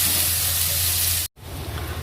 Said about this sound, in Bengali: তো এখানে পেঁয়াজটা ভাজছি